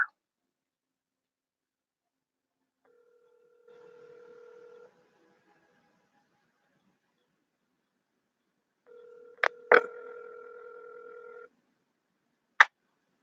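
A telephone call goes out, with short dialing tones and two spaced, steady ringback tones before reaching voicemail, ending in a sharp click; otherwise quiet.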